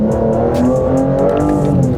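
Aston Martin Vanquish with a modern V12 engine revving hard, a loud close-up snarl with rising and falling harmonic pitch and rapid crackling pops over the top.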